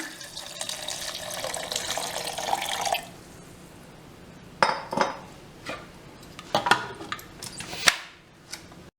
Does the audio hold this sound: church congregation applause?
no